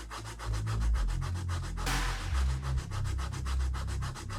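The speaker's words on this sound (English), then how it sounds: "I put the sandpaper over a plastic tube and sanded a nice curved edge to this" Sandpaper wrapped around a plastic tube rubs back and forth across a curved plastic edge in steady, rapid strokes, close and fairly loud, with no talking.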